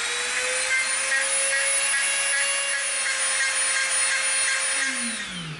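Rotary tool with a smoothing bit tapering the end of a wood dowel, a steady high-pitched motor whine with a gritty rubbing texture, close and continuous, dropping in pitch as it winds down at the end.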